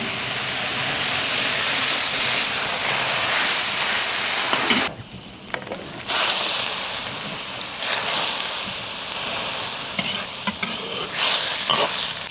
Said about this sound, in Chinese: 全部炒香以后倒入开水